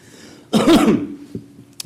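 A single sharp cough or throat-clearing burst from a speaker with a cold at a county board meeting, close and loud into the microphone, followed by a faint click and near quiet.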